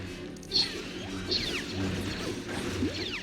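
Glass smashing in the Lego Star Wars video game, a few separate crashes with swishing effects and clattering pieces over a low game background, no talking.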